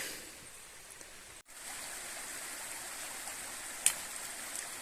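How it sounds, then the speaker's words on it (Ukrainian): The small mountain stream Voitul near Vorokhta flows in a steady, close wash of water during an autumn forest walk, with one brief drop in the sound and a small splash near the end. "Струмочок Войтул. Зараз ми його переходимо і піднімаємося вгору"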